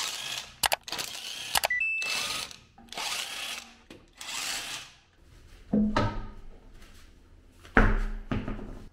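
Work on an Audi A5 S5 8T Sportback front wheel: a 17 mm socket ratchets and rubs as wheel bolts are loosened, with intermittent metallic clicks and scraping bursts separated by short pauses, close and without talk.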